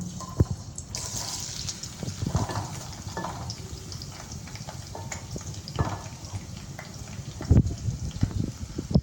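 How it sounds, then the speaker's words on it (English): Onions dropped into hot oil for a French beans fry, giving a steady close sizzle and crackle with scattered pops and a few stirring knocks, no talking. "right now we are going to add the onions straight to the oil."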